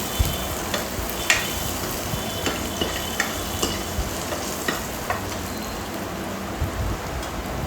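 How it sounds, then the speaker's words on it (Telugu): Curry leaves sizzle and crackle in hot oil while being stirred, a steady frying hiss broken by regular scraping clicks of the spoon against the pan, close and with no voices. "కాస్త కరివేపాకు వేసుకున్నామండి."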